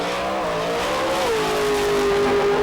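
An 11,500cc Ford Mustang race car at a 1998 Avon Park Super Series event roars loudly past, its engine note holding steady and then dropping in pitch as it accelerates away, with a continuous rough exhaust blare.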